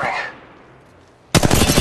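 Gunfire in Apex Legends Mobile: a shot fades into a brief quiet tail, then a sudden loud burst of rapid automatic fire kicks in close up.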